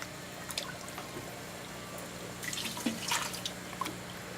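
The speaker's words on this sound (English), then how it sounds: "I'm going to wet the sand down first." Water poured onto the sand of a 5-gallon aquarium, faint trickling and dripping with a few soft splashes, quiet and close.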